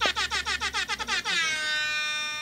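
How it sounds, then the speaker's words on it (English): A rapid air horn blasts about ten quick pulses in a fast stuttering rhythm, then holds one long sustained tone that fades away; loud and close, with no talk. "I really love the rapid air horn"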